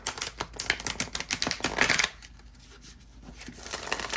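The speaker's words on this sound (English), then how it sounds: "it is a good shuffle" Overhand shuffle of a tarot deck, a rapid run of crisp card riffles and slaps for about two seconds, then a quiet pause before faint shuffling resumes, close and alone.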